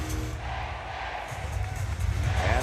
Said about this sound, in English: And the crowd, you can hear it through our headsets,